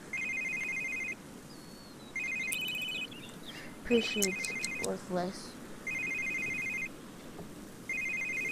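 A telephone in The Sims 3 rings again and again in steady electronic trills with pauses between them, while a person talks briefly partway through.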